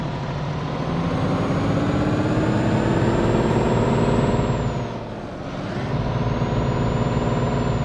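A Scania truck in Euro Truck Simulator 2 with an upgraded Super engine drones loud and steady under load, its rumble briefly dropping as the revs fall, then swelling back.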